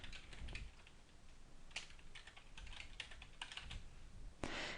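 Close, quiet typing on a computer keyboard as login details are entered, bursts of light key clicks with short pauses between groups and a firmer keystroke near the end, no voices.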